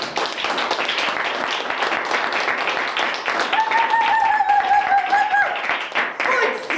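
An audience clapping at an open stage show, a fairly loud and continuous patter of hands with voices and a tonal sound rising over it midway.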